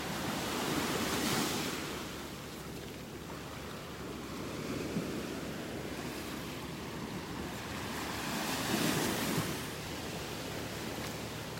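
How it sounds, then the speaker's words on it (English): Ocean surf rolling onto the beach at North Naples, Florida, a continuous broad wash with swells building and fading every few seconds, mixed with wind noise on the microphone and no voices. "Until these waves settle down."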